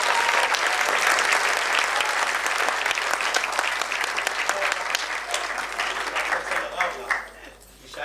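An audience in a theatre applauds child actors after a play, with loud, sustained clapping and some crowd noise that fades near the end.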